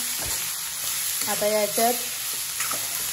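Capsicum frying over a high gas flame for chicken chilli, a continuous close hiss of sizzling with a few stirring clatters and a brief voice murmur partway through.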